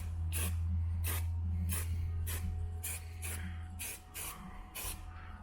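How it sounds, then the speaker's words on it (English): Satin paint hisses from a freshly shaken spray can in short, repeated bursts, about nine sharp sprays spaced roughly half a second apart, heard close over a steady low hum. "This spray paint doesn't make a ton of overspray"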